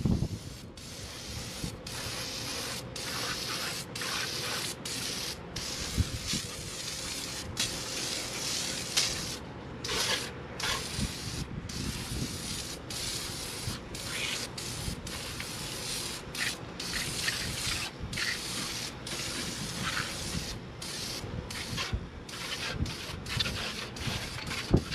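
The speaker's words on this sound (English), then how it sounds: "So this engine's gonna be sprayed pretty thoroughly." Cleaner is sprayed thoroughly over a car engine in a long run of short hissing bursts broken by brief pauses. The texture is soft and rubbing, and it stays fairly quiet and close throughout.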